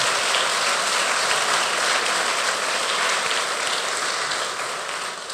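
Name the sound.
congregation applauding in church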